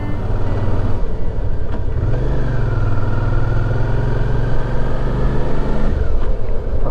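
A motorcycle ride on the road toward Kennesaw Mountain and Chickamauga battlefield in Georgia, with a loud, steady engine drone and wind rush throughout. The engine note dips and rises once as the rider shifts gears.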